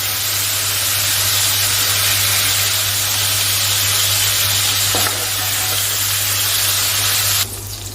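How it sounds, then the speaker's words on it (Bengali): Steady, loud sizzling of shrimp frying in hot oil fills the whole stretch, with a low hum underneath and a faint clatter near the end. "চিংড়ি মাছটাকেও খুব বেশি ভাজা করবো না ভাজা হয়ে গিয়েছে"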